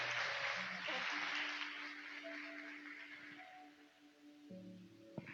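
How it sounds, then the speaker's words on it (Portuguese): A church congregation applauds during a worship service, a soft wash of clapping that thins out while sustained keyboard tones play beneath, heard faintly and at a distance. "Vamos receber com palmas"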